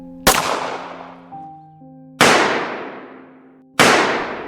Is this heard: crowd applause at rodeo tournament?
no